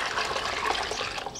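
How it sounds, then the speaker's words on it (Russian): Water is poured during riverside gold-sand prospecting, a steady, fairly quiet splashing hiss that runs unbroken, with no one speaking. "Воду наливаю."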